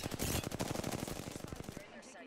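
Gunfire in the video game Apex Legends, played on PS4: a rapid, loud automatic burst of closely spaced shots that cuts off after under two seconds, leaving a brief quieter tail.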